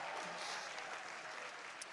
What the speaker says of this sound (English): Give her a great round of applause for that alone.